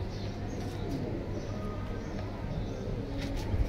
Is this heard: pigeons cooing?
yes